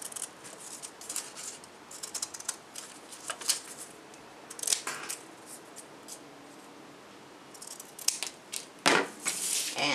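Scissors cut paper into rocket fins with rapid, crisp snips and rustles in short bursts, close and fairly quiet, with paper handled between cuts.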